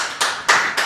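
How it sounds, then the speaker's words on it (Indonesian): Three short bursts of clapping hands, each swelling and fading quickly, close and fairly loud with no talking. "Tepuk tangan dulu"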